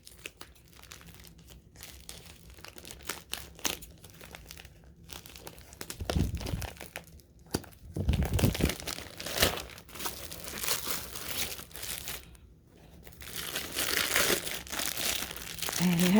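Scissors crinkle and snip through the plastic packaging of a pillow, with irregular crackling, rustling handling noise and a few louder bursts as the wrap is cut and pulled open close to the microphone.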